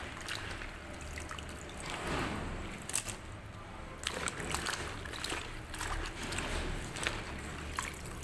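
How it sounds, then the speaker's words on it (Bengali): Vegetables rinsed by hand in water at home, with soft splashes, drips and trickles continuing steadily at close range and moderate level. "চলো এগুলো একটু ভালো করে ধুয়ে নিই।"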